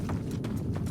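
Hooves of a horse-like alien creature clip-clopping in No Man's Sky, four quick soft steps in an even walking rhythm over a low background hum.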